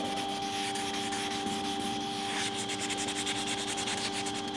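Continuous abrasive sanding on a painted surface, a steady close rasping rub with rhythmic strokes that speed up toward the end, over a constant mechanical hum.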